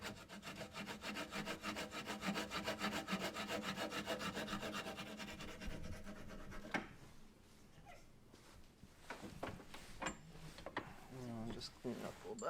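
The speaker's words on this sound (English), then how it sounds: "So I think we're going to have to cut this by hand." A hand saw cuts a wooden boat part, a steady rhythmic rasping of back-and-forth strokes close up, then stops for scattered handling knocks and scrapes while a person talks.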